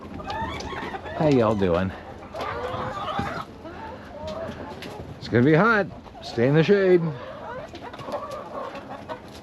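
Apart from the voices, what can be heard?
chickens clucking in the morning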